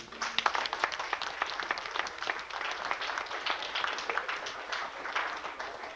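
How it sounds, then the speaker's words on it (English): Applause for a Scoutmaster at an Eagle Scout ceremony, a modest room of people clapping steadily at moderate volume, with individual claps distinct within the clatter. "I think a Scoutmaster always deserves a special round of applause."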